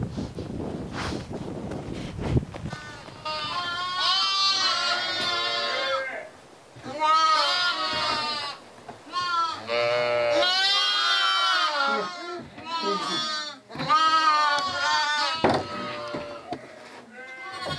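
Sheep on a pasture bleat again and again, loud and close, with long wavering calls overlapping in bursts, separated by short pauses, with wind rumbling on the microphone at the start.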